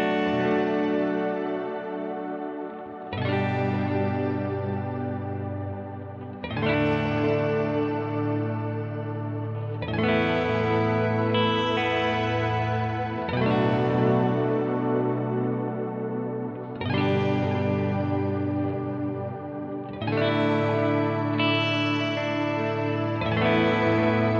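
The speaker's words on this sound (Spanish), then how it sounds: "Y acá ya tengo es un shimmer." Sustained guitar chords ring out one after another through a Strymon Big Sky shimmer reverb, each washed in shimmering, airy reverb that blooms and lingers with bright upper overtones.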